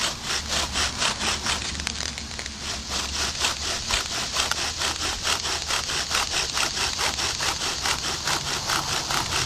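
Wooden bow drill spindle grinding into a fireboard, a steady back-and-forth rasping friction with a regular stroke rhythm, close and fairly loud throughout with no talking.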